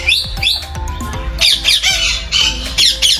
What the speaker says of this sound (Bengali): Golden parakeet, Eclectus parrot, চন্দানা। এই পাখির ডাকগুলো শুনতে তো পাচ্ছেন